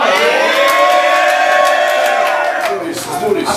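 Loud crowd at a battle rap event roaring, whooping and cheering in one continuous, dense burst of noise that holds steady, then begins to thin slightly near the end.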